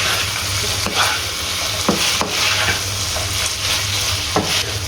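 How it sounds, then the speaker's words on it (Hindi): Chopped capsicum filling sautés in a pan with a steady sizzle, a spoon stirring and scraping through it every second or so, close and loud without any talk. "इसको सिर्फ 1 मिनट के लिए हमने सौते करना है इसके साथ।"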